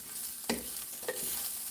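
Food sautes in a little oil in a pan, a low continuous sizzle punctuated by two sharp clacks of a utensil stirring against the pan, close and unaccompanied by speech.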